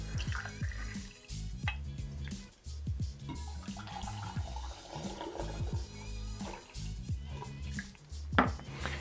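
Silver tequila, 1800 brand, poured into a cocktail shaker: a soft, uneven liquid trickle with light glugging and clinks, faint and close.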